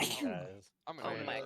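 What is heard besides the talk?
sneeze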